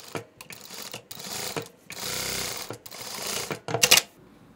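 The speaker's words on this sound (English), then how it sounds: "Now leave a gap of 1 inch and stitch again." A sewing machine stitches fabric in short loud bursts of rapid mechanical chatter separated by pauses, close by.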